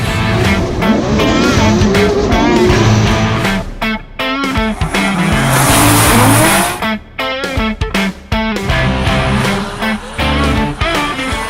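Drift cars run in tandem, engines revving loudly while tires squeal and screech in bursts, close and chaotic with choppy breaks in the sound.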